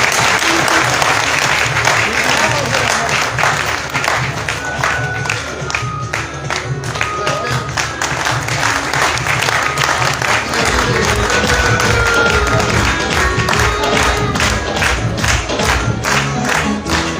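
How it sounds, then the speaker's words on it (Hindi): An audience applauds Sister Jasmine at a Catholic parish gathering in Abbottabad: loud, dense clapping from a crowd that carries on throughout, with some cheering mixed in. "आप सबकी भरपूर तालियों में तालियां बजाइए इनके लिए"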